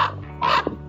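A single harsh crow caw rings out briefly, fairly close, against a faint steady background hum.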